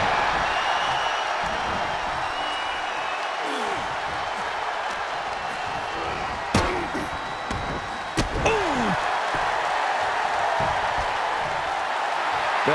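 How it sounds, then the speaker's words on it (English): A wrestling arena crowd at the Backlash 2009 event roars loudly and without a break, with two sharp slam-like impacts cutting through the cheering. "The sound of this crowd is deafening, and he's asking for more."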